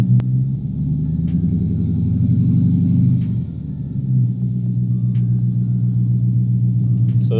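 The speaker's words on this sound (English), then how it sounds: "I'm trying to let the car warm up" A Dodge Charger Pursuit engine idles steadily during a cold-start warm-up, a loud, close, low rumble that dips briefly midway before settling back to an even drone.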